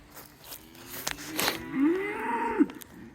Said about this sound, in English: Mila, this is our house cow.